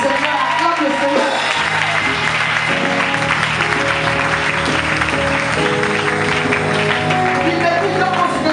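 A church congregation at a Sunday convention in Abidjan applauds to acclaim the Lord, a loud, steady wash of clapping that fills the whole stretch, with crowd voices and sustained tones rising underneath.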